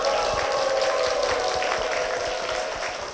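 Church audience applause welcoming a deacon onto a Korean church program stage, loud continuous clapping from a crowd, evenly sustained and then easing off slightly toward the end.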